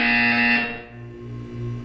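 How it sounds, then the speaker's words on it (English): A loud electronic buzzer from the game Portal 2 blares with a harsh tonal drone, cuts off, then gives way to a lower pulsing hum in short repeated bursts. "When you hear the buzzer, look down at the floor."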